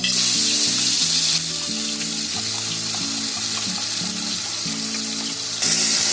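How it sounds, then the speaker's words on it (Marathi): Masala paste frying in hot oil for an egg malai curry, a steady close sizzle with scraping and stirring, while background music with a repeating melody plays throughout. "हा मसाला आहे ना, आता चांगला 2-3 मिनिटं भाजून घ्यायचा तेलामध्ये"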